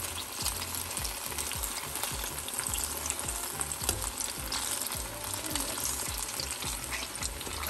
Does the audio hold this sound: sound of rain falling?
no